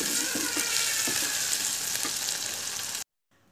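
Onions and green chillies sautéing in hot oil for a fish curry, a close steady sizzle with faint stirring scrapes, lasting about three seconds before cutting to near silence.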